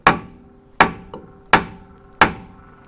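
Four sharp hammer taps strike the back of a stuck brake caliper, evenly spaced, each a bright metallic knock that rings and fades, with one faint smaller tap between the second and third.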